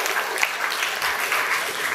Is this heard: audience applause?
yes